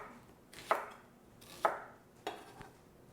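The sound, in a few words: chopping vegetables for stock on a cutting board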